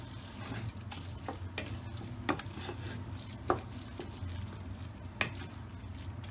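Spoon stirring chopped fresh mint through cooked beef filling for Persian pirashki in a sizzling pan, a soft steady fry with a few scrapes and clicks against the pan.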